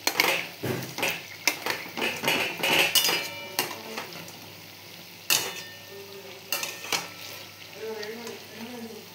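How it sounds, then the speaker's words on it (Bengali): Snake gourd fritters frying in a pan of oil as they are turned, with a sizzling bed broken by clattering scrapes and knocks of a utensil against the pan, close by. "এইভাবে আমি বড়াগুলো একটু উলটপালট করে ভেজে নেব"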